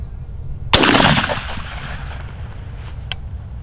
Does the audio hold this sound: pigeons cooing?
no